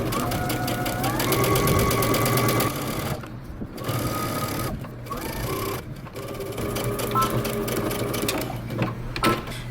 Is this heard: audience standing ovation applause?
no